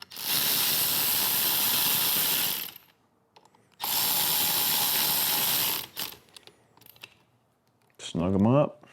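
A hand ratchet tightens handlebar bolts on a 2024-2026 Harley-Davidson Road Glide, two long bursts of rapid clicking separated by a pause, then light tool handling and a short voice.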